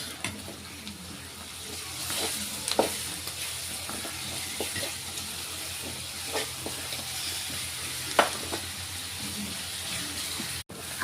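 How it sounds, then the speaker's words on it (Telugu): Ginger garlic paste frying in hot oil for a chicken dish makes a steady, soft sizzling hiss, with scattered small crackles and a few faint stirring clicks, no voices. "అల్లం వెల్లుల్లి పేస్ట్ నూనెలో బాగా వేగింది"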